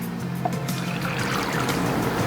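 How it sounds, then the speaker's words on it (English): Purified water poured into passata in a cooking pot, a steady close trickle and splash running throughout. "Don't want to waste any of this wonderful passata, so I added some purified water."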